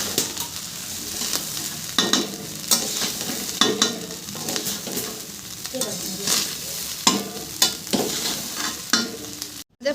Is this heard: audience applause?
no